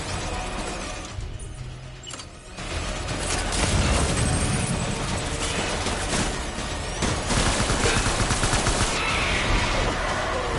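Loud, dense video game gunfire from Death Stranding, rapid bursts and overlapping automatic shots with sharp cracks and clatter, sustained throughout with little pause.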